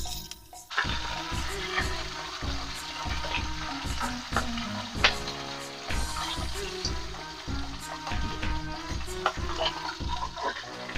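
Cabbage and dried chillies frying in a pan make a loud, busy sizzle with repeated stirring scrapes and clanks, close up and continuous throughout.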